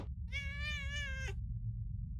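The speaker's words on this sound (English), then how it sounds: "Why did you make the cat cry?" A cat cries in the indie RPG Maker game Impostor Factory, one drawn-out wavering meow that lasts about a second over a low background hum, then fades to the hum alone.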